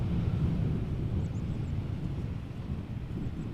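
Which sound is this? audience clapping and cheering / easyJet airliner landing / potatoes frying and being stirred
easyJet airliner landing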